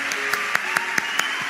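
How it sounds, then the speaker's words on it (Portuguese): A church congregation clapping for the Lord during a worship service, a steady rhythmic beat of sharp claps about every fifth of a second over a soft background of voices and music. "Vai, aplaude."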